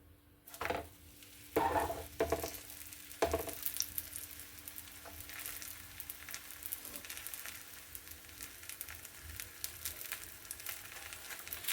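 Oil sizzling steadily under an aloo paratha frying in a pan, with a few louder spatters and spatula scrapes early on, then a continuous close crackle.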